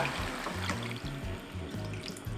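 Water pours steadily into a pot of stir-fried seasoned vegetables for a perilla seed stew, a continuous close splashing gush lasting the whole moment without talk.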